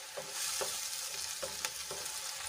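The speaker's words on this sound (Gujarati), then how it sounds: "હવે એમાં આપણે બે મોટા ટમેટાની પ્યુરી એડ કરીશું અને સરસ રીતે આપણે એને ડુંગળીમાં મિક્સ કરી લઈશું" Tomato puree being stirred into sautéed onions in a pan, a soft continuous sizzle broken by a few rhythmic spatula scrapes, close and quiet, with no voices.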